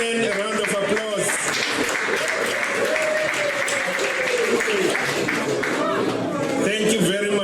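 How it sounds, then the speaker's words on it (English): A dense, steady wave of audience applause fills an agricultural research symposium hall in South Africa, with a voice and a faint tone running underneath throughout. "Ladies and gentlemen, a round of applause."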